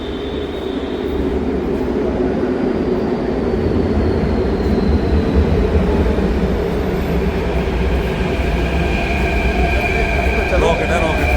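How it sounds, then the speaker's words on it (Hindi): A metro train pulls into a station with a steady, loud rumble and rising wheel noise, thin high squeals near the end, close by and continuous, with no talk heard over it. "अपनी मेट्रो आ गई।"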